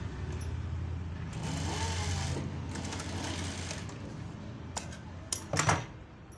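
A sewing machine runs an edge stitch along folded fabric, a steady, fairly quiet mechanical whir for several seconds that then stops, followed by a few sharper clicks and knocks from handling the machine.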